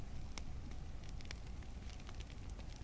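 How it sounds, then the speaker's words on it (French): A campfire burns in Fortnite, a soft, steady crackle with scattered sharp pops, close and fairly quiet, with no voices. "je suis en train de faire le feu de camp"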